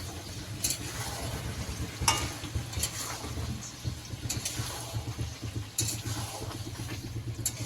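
Chilli chicken being stirred in a frying pan: continuous sizzling with repeated spatula scrapes and clicks at an uneven rhythm, close and moderately loud, with no voices.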